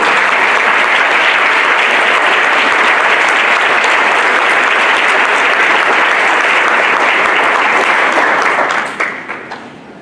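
A large audience applauds students being honored at a school awards ceremony, steady dense clapping filling the room for about nine seconds before tapering off at the end.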